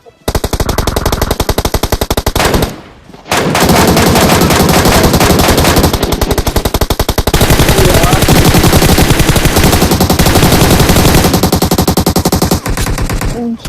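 MK14 rifle gunfire in the mobile battle royale game PUBG Mobile: loud, rapid bursts of shots fill nearly the whole stretch, broken by one short pause early on, with dense rattling reports close up.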